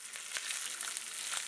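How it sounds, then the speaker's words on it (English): A pound of vermicelli frying in hot oil in a large nonstick pan over medium-high heat, a bright, steady sizzle with crackly pops running continuously. "When the oil is hot, add in your 1 pound of vermicelli."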